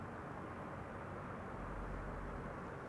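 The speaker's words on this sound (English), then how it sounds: "there is a KLM Dreamliner already with the gear down coming this way" A KLM Dreamliner airliner with its gear down approaches Amsterdam Schiphol as a steady, broad, distant jet roar on a sunny day. The roar swells slightly near the end.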